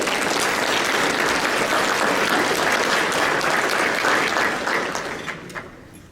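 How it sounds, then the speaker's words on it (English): A room full of people clapping at an awards luncheon, dense and sustained applause that thins out and fades over the last second. "So a round of applause."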